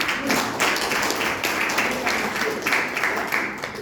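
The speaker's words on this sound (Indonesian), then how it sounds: "Ya, tepuk tangan dulu." Group applause in a school dormitory gathering, a dense, steady patter of many hands clapping close by, holding at an even level throughout with a faint voice underneath.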